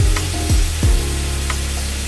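Chopped tomatoes and coriander leaves sauté in a pan for Kozhikodan dum biryani, giving a steady close sizzle with a few scraping stirs of a spoon and no talk.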